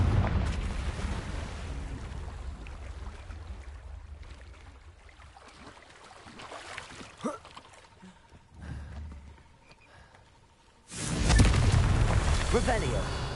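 Booming explosions from the Confringo spell in Hogwarts Legacy, rumbling low bursts spread through the clip with a loud blast near the end.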